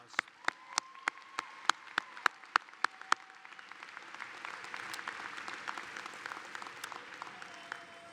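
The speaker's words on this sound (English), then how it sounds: "If we could give them a little round of applause." A commencement audience gives staff a round of applause. A few sharp, evenly spaced single claps come first, then a broader, softer wave of clapping from the crowd, fairly faint overall.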